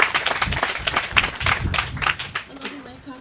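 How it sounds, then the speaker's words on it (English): Audience applause at a celebration-of-life memorial gathering, a dense run of many hands clapping close and steady before thinning out near the end, with a few voices mixed in. "Nice round of applause for Anela, everyone."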